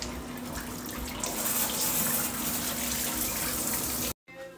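Water streams steadily from a TikTok Shop shower head with a spinning part, a close, continuous hiss with a faint steady tone underneath, cutting off abruptly near the end.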